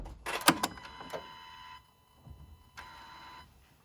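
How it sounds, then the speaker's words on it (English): Turbo wastegate actuators on a 2022 Ford 3.5 EcoBoost moving back and forth, heard as short whirring and clicking bursts in two separate spells, fairly quiet with soft gaps between. "the wastegate actuators, they move back and forth, and that's that little sound"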